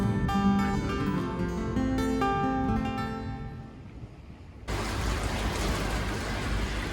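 A sudden rain shower hits during a thunderstorm in Patagonia near Piltriquitrón and El Bolsón, starting abruptly as a loud, dense hiss of rain after several seconds of quieter, tonal sound.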